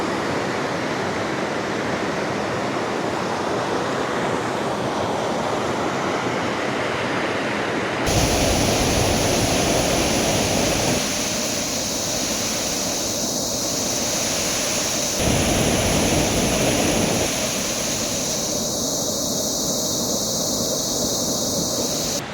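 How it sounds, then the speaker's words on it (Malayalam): A waterfall at Kodikuthi in Kerala's hill villages, swollen by monsoon rain, roars as a dense, continuous rush of white noise. It stays loud and unbroken throughout, with its tone shifting slightly as the position changes. "എന്തായാലും അടിപൊളി ഒരു വെള്ളച്ചാട്ടമാണ് കേട്ടോ."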